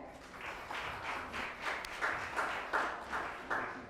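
An award ceremony audience applauds in repeated rhythmic bursts of clapping, moderately loud with a lively crowd texture, rising and falling in waves without speech on top.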